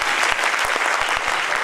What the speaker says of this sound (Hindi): एक बार तालियां मिलकर।